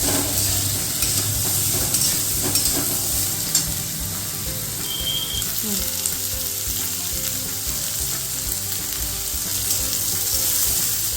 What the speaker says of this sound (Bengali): ওই পেঁয়াজগুলো সম্পূর্ণটা দিয়ে দিচ্ছে তেলে